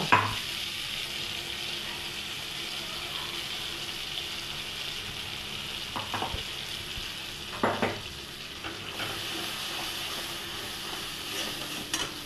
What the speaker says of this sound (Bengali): যেহেতু কাজু আছে আমাকে একটু ভালো করে নেড়ে নিতে হবে